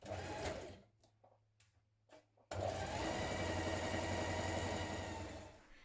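Domestic sewing machine stitching the side seams of a blouse: a fast, loud mechanical whirr runs, pauses for a second or so of quiet clicks and handling, then resumes in a steady burst to the end.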